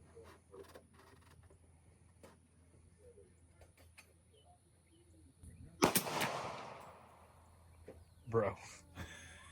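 A suppressed Henry X lever-action rifle in .30-30 Winchester fires subsonic rounds outdoors, giving a sharp, muted crack near the middle followed by a shorter report later, with faint background noise and no real boom.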